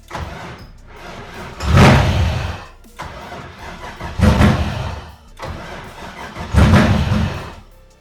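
An LS 6.0-litre V8 swapped into a Toyota Cressida cranks and tries to start three times, each attempt a loud, close burst of starter and engine rumble separated by quieter pauses, with no talking.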